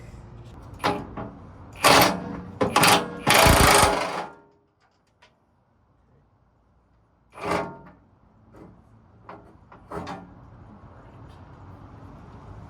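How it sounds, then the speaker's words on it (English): An impact wrench works a skid plate bolt underneath a 1984 Bronco II, giving a couple of loud, close rattling bursts, then a brief later burst and some faint clanks and scrapes. "then I'll hit it with the impact wrench underneath"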